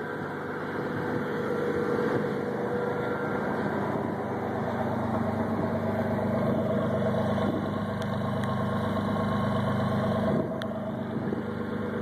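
A 1990 Ford F-series truck with an inline-six engine idles after a cold start, cardboard blocking the radiator, a steady, close, even rumble holding throughout with a faint tick near the end.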